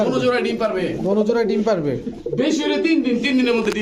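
Pigeons coo steadily at close range, soft throaty calls overlapping one another in a continuous rolling murmur.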